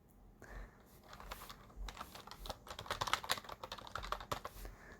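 Quick, uneven keystrokes patter on a computer keyboard, light clicks bunching into faster flurries in the middle and trailing off, fairly close and quiet with no talking.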